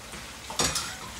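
Prawns drop into hot oil with confit garlic and cayenne. A soft simmer jumps into a brief burst of sizzling and stirring, then settles back to a quiet fry, close by with no talk.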